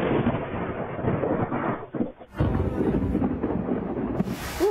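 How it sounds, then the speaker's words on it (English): Thunder rumbles and cracks loudly through a storm on Australia's east coast, a continuous heavy roar with a brief drop near the middle before another burst rolls in. "Thunder and lightning cracking across the sky."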